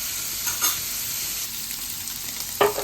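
Pieces fry in oil for a paneer curry, a steady close sizzle with a few faint stirring scrapes and no talk.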